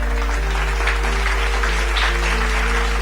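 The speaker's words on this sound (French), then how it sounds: "Acclamons pour la parole." A church congregation applauding after a Bible reading, a dense steady wash of clapping heard over a loud low hum and sustained tones, continuous throughout with no pauses.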